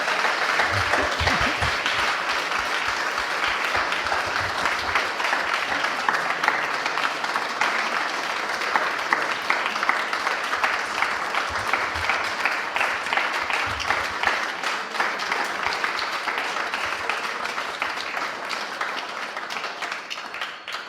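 Sustained audience applause after a live Sahaj music performance at an Austrian premiere, a dense, loud crowd of clapping hands running unbroken for about twenty seconds.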